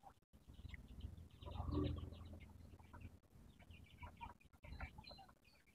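A Japanese Shamo hen clucks softly a few times at a distance, faint amid low background noise.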